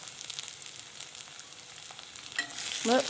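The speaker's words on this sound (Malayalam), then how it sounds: "വറ്റൽ മുളകും ഉഴുന്ന പരിപ്പും എല്ലാം ഒന്ന് നന്നായിട്ടൊന്ന് മൂത്ത് വരണം" Urad dal and dried red chillies roasting in a pan, a soft continuous sizzle with light crackles, swelling louder with a brief scraping stir near the end.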